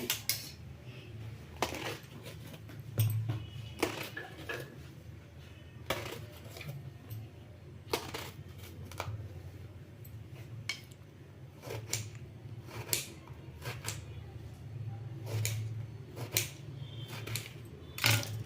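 A knife chopping eggplant (brinjal) for a Kannada eggplant stir-fry, a series of quiet, sharp, irregular clicks of blade on cutting board, close and faint, with a faint low background hum.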